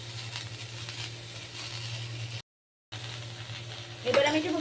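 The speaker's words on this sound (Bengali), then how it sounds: "এই শুক্তো তো হচ্ছে গিয়ে মুখে স্বাদ লাগার সুক্ত তো এগুলো ভাজা হোক" Vegetables for Bengali shukto fry in oil in a pan with a constant soft sizzle and a low steady hum, cut by a brief dropout, then a clatter of stirring near the end.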